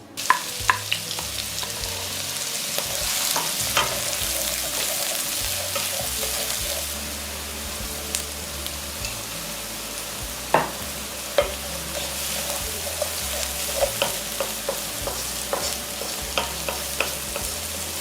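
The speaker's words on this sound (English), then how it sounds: "Add the diced onions and cook till they start to brown lightly." Diced onions fry in a pan with a steady, dense sizzle throughout, broken by occasional scraping and stirring clicks close by, with no talk.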